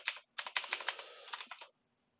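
Keystrokes on a computer keyboard while entering commands into a network device console: a quick burst of clicks, a short pause, then a steady run of close, crisp taps that stops abruptly.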